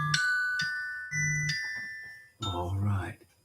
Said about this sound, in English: I just use something off my phone. It's kind of a chime.